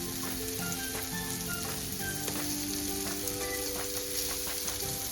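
Prawns fry crisply in a pan as they are turned over, giving a dense, steady, close sizzle with faint utensil scrapes throughout and no talking.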